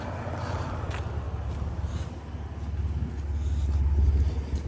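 A 1995 Mitsubishi GTO cruising slowly on a short road trip, a steady low engine and road rumble that swells toward the end, with wind noise and no clear blow-off valve release standing out.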